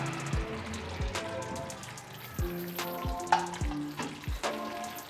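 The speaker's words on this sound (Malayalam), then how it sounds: "ഇനി നന്നായിട്ട് ഇളക്കാം." A spoon stirs poha halwa with ghee in a hot pan, giving repeated scraping strokes over a soft, steady sizzle. The strokes come at a loose rhythm, close and fairly quiet.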